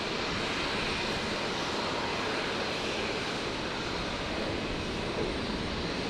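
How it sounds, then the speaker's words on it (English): A Jetstar Airbus A320 jet arrives at Brisbane Airport, its steady broadband engine roar loud and constant throughout, with no talking. "Jetstar 320, Jetstar 754 coming in from Launceston"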